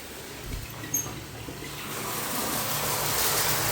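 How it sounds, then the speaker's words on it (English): Spring water running into a storage tank on an off-grid homestead, a steady rushing gush that grows a little louder and fuller over a few seconds, continuous and fairly close, no voices. "I can hear the water going in the tank."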